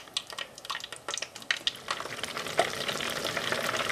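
Scotch eggs deep fry at about 350 degrees in a small home fryer, two at a time, with a steady bubbling sizzle and scattered crackling pops close by.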